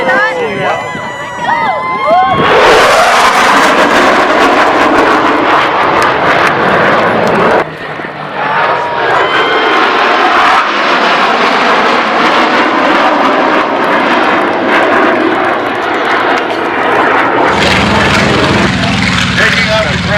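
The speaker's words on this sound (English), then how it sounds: "F18 Hornet." An F18 Hornet jet roars past at an airshow, a loud, sustained, broadband thunder that swells suddenly and persists for many seconds with shifting pitch, crowd murmur beneath it.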